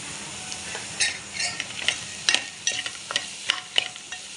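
Masala for a crab curry, with salt and garam masala added, stirred and scraped in a pan with steady sizzling and repeated spoon scrapes, close and fairly loud, with no voices.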